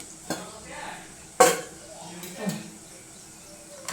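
Cumin and mustard seeds drop into hot oil in a pan, giving a sharp clatter and a short crackle, with lighter kitchen clinks before and after and a faint voice in the background.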